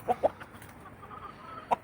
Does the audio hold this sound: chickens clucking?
yes